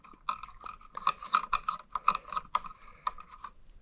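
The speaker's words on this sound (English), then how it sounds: "put a wire nut on there." A wire nut is twisted onto wires while a light switch is being hooked up, giving a quick run of close, crisp plastic ratcheting clicks.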